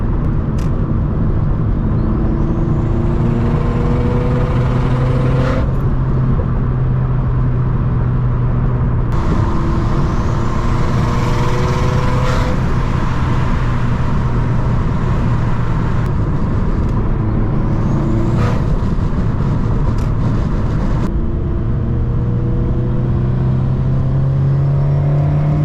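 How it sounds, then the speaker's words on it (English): A turbocharged Subaru BRZ is driven hard, its engine climbing through repeated rising pulls with gear changes between, turbo whistle and whooshes over a loud, close cabin rumble throughout. "Enjoy the turbo sounds."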